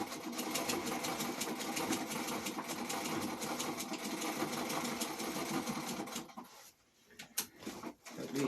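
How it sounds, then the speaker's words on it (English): A sewing machine stitches slippery sail cloth for a reefing sail's sacrificial strip, a steady close mechanical whir with rapid needle ticking, then slows into a few irregular bursts and knocks near the end. "At least the machine seems to be sewing properly now."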